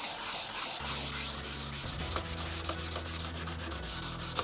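A Mustang car body being rubbed down with an oil cleaning substance, a close, steady scrubbing and wiping sound with short repeated strokes, no one talking.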